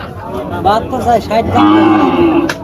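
Cattle low loudly and close at a busy cattle market in Faridpur, one drawn-out moo rising and wavering over about two seconds, with market chatter faintly behind.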